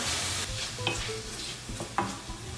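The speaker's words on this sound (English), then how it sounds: "Let's get the onions and garlic a little bit of color." Onions and garlic sauté in a pan for beef adobo sa gata, a soft, close sizzle with scattered stirring scrapes and small bumps, fairly quiet and without talking.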